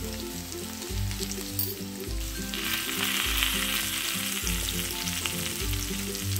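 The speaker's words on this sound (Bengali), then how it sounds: "সবজিগুলো ভালোভাবে ভাজা হয়ে গেছে, বাকি ভাজা সবজি যেগুলো তুলে রেখেছিলাম সেগুলো দিয়ে দেবো" Vegetables such as bitter gourd and eggplant sizzle steadily in a pan over low flame, with a constant close frying hiss and a low repeating hum from the stove or kitchen behind it.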